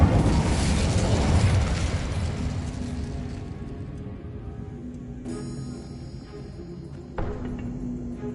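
An Incendio fire spell cast in Hogwarts Legacy bursts out loudly as a whooshing blast, then fades into a long ringing decay, with a brief metallic shimmer and a small pop near the end.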